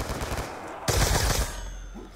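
Gunfire from a weapon in Black Ops 2 Zombies, a short burst of rapid shots at mid-clip rising out of a steady game background rumble.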